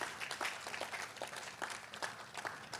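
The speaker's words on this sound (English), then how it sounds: "give our students in JDCSD a round of applause" Scattered applause for students at a school district's annual address, a modest room of hands clapping unevenly with distinct individual claps standing out, fairly faint and without speech.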